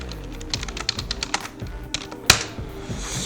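Typing on a computer keyboard, a fast irregular run of close, crisp key clicks with one louder clack near the end, no talk.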